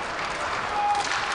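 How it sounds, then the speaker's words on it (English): Spectators at an ice hockey game break into a round of applause, a loud, steady wash of clapping and crowd noise that swells slightly in the middle before settling. "He gets a round of applause for that one."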